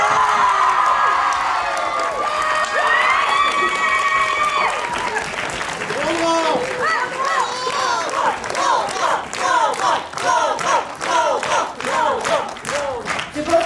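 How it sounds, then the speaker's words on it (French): Audience at a cosplay contest at Cartoon Fair 2023 bursts into loud, sustained applause and cheering, with whoops and shouts over the clapping, following a sustained tone and voices near the start. "Je pense qu'on peut encore applaudir tous les participants ainsi que nos gagnants."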